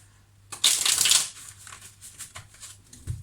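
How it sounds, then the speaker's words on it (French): Tarot cards being shuffled by hand: a dense, loud riffle burst near the start, then a run of softer, rhythmic card slaps and flicks, with no talking. "je mélange mes cartes"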